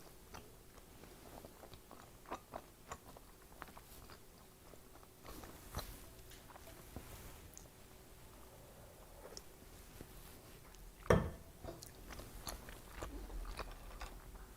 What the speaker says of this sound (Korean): 이번에는 제가 누룽지 한번 찍어 먹어 볼게요.